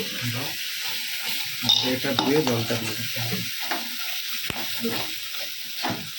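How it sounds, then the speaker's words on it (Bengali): Doi katla fish curry is stirred in a pan, close scraping strokes over a soft bubbling sizzle, with a brief sharp knock near the end. "আজকে দই কাতলা খাবো তাহলে আমি নাড়িয়ে দেবো একটু"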